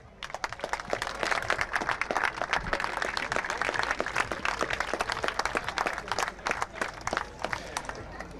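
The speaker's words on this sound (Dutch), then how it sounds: "ik wil uit naam van mezelf een heel groot applaus voor al die vrijwilligers" Applause for volunteers at the SKS Skûtsjesilen sailing championship in Sneek, a dense, sustained clapping from a sizeable crowd filling the whole stretch at moderate distance.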